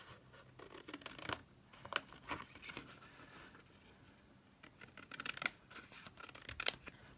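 Scissors snip through paper in short irregular bursts, cutting freehand while making a flip-and-fold journal; quiet, close crisp clicks and rasps separated by brief pauses.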